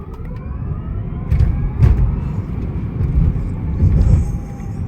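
A Tesla Cybertruck pulls away hard, its deep low rumble and road roar swelling in two loud surges over five seconds, heard from inside the cabin with no talking.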